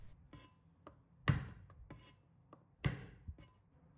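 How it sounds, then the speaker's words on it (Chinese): Garlic cloves smashed flat with a knife on a board, a few sharp thuds and clacks at irregular intervals, close but fairly quiet, with no talk. "把大蒜拍扁"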